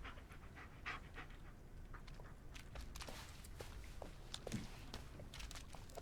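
A dog pants quickly and rhythmically in the video game Blair Witch, close and fairly quiet, with soft footsteps and small rustles mixed in and no talking.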